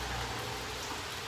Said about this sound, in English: because I'm getting rained on